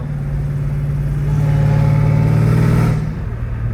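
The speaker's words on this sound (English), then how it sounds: "this exhaust is freaking insane" A supercharged Dodge Challenger Hellcat Redeye revs up loudly through its exhaust, rising to a sustained roar for about a second and a half before dropping back to a deep idle, heard up close.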